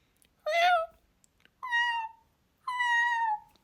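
A cat meows three times, each call a clear, drawn-out tone with a falling end, spaced about a second apart and close by, with quiet between the calls.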